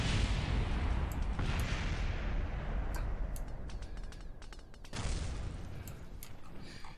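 Gunfire from combat craft in Kerbal Space Program modded with BD Armory, a dense continuous rumble of shots and booms with scattered sharper cracks, loud throughout and alone with no talk.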